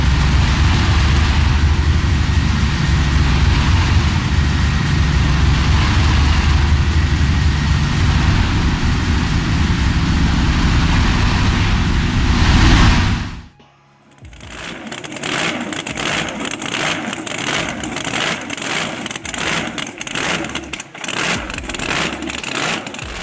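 An old high-speed diesel engine running, a loud, dense, continuous roar that cuts out abruptly, followed by a rougher rhythmic chugging with pulsing beats.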